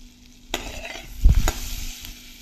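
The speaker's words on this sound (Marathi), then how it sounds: "लसूण थोडंसं लालसर होऊ द्यायचं" Garlic sizzling in melted butter in a pan, a soft crackle broken by two sharp stirring scrapes and a low clatter of a spoon against the pan.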